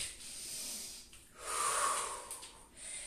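A person draws in a long, audible breath through the nose during a yoga session, a soft airy rush swelling in the middle of the clip and easing off, with quieter breathing before and after and no talk.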